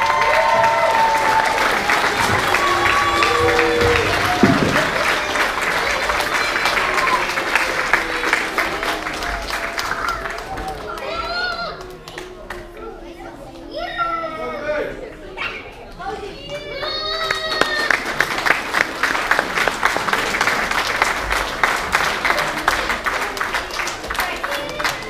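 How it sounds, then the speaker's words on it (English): An audience applauds at a class of 2018 graduation, with sustained loud clapping mixed with children's voices and chatter, a brief dip in the middle, then a renewed round of applause. "let's give the class of 2018 another round of applause"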